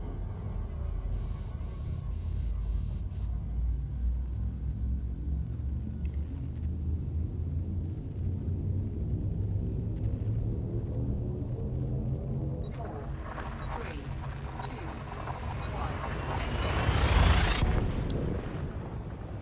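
A frame shift drive charging in Elite Dangerous: a steady low spacecraft rumble that swells into a rising whine and roars to a bright peak near the end before dropping away, with no talk.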